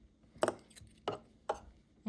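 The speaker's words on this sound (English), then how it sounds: "I just use some little scissors here to get in there" Small scissors snip at clear tape on a sewing machine presser foot: three crisp, separate clips spaced roughly half a second apart, close and fairly quiet, with no talking.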